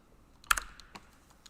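Computer keyboard keys pressed in a small burst of a few quick clicks, then a couple of isolated taps, fairly close and quiet with no talking, during a live PC gaming session.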